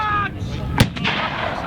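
A Civil War battle reenactment cannon fires once, a single loud boom with a short rolling tail, standing out over steady outdoor background noise.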